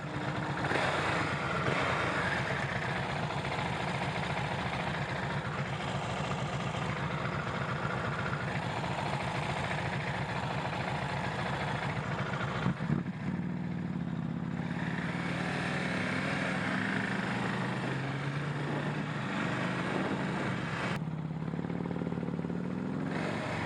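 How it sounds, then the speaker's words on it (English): A 2017 KTM Duke 690 single-cylinder engine with its stock muffler runs steadily and loudly throughout, a continuous low engine drone with a brief shift in tone midway, recorded with no talking. "That sound, that single sound with the stock muffler sounds pretty good."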